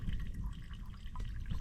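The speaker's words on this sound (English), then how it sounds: "I can just put the cup underneath it and let it filter while we walk off" Water drips through a filter cloth hung in the open at a wilderness survival camp and falls into a cup, a soft steady trickle close by over a low, rumbling outdoor background with no talk.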